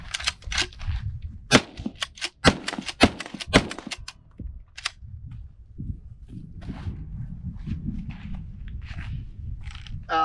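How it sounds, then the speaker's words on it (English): Four rapid gunshots from a pump-action rifle: sharp, loud cracks in quick succession with action clatter between them, followed by quieter handling and shuffling noises. "this is 4 rounds out of pump action"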